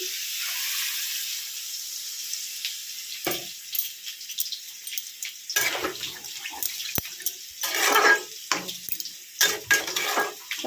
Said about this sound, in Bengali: তো চলো জলটা দিয়ে দিই